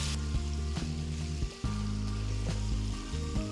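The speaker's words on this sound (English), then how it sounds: "Cook the potatoes for about 5 minutes on medium flame." Potato pieces frying in a pot for aloo pulao over a medium flame, a steady loud sizzle with occasional stirring knocks and a brief dip, no voices.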